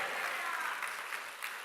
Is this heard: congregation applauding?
yes